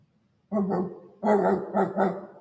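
A dog barks a few times after a quiet start, two short yaps then a quicker burst of three, close and clear with no talking over it.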